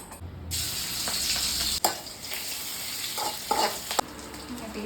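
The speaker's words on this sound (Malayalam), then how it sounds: "ഇനി നമുക്ക് ഓയിൽ ചൂടാകുമ്പോൾ നമ്മൾ ചതച്ച് വെച്ചിട്ടുണ്ടാകുന്ന വെളുത്തുള്ളി ചുവന്നുള്ളി കറിവേപ്പിലയും കൂടെയുള്ള മിക്സ് അങ്ങോട്ട് ഇട്ട് കൊടുക്കും" Crushed garlic, shallots and curry leaves hit hot oil and fry with a steady, close sizzle, with brief spatters and a few clinks of stirring over about five seconds.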